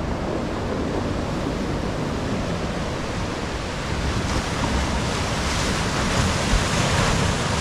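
Sea waves wash onto a shore at low tide in a continuous broad roar, with wind rushing across the microphone and the surf swelling slightly louder toward the end.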